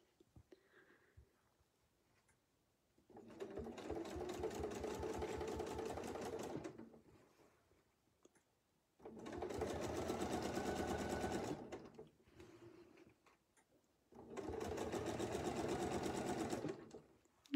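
A sewing machine stitches a baptist fan quilting line, three separate bursts of steady rapid whirring separated by short pauses, loud and close, with faint murmuring between runs.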